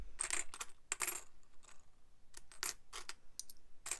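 Collectible coins, including old 10p pieces and tokens, are dropped into a metal pot in quick bursts of bright clinking and jangling, several clusters close together with short quiet gaps between them.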